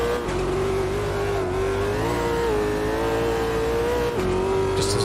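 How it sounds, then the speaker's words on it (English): A modded car engine in the racing game Automobilista 2 holds a steady, loud drone with a strong tonal hum, rising and settling slightly, with a brief dip near the end. "In fact, it sounds pretty much identical to the Super V8."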